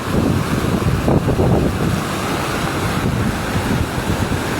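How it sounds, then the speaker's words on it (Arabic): Violent floodwater surges through Wadi Aurif in Palestine after a night of heavy rain, a loud, steady roar of rushing water close by with wind buffeting the microphone throughout. "لا أحد يستطيع السباحة في هذه المياه"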